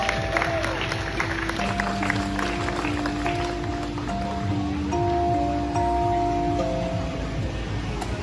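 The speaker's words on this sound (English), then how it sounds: "Give them a big round of applause." A crowd claps for helpers at a RetroFest event in Arkansas, a moderate spread-out patter heard under steady tonal music and background chatter.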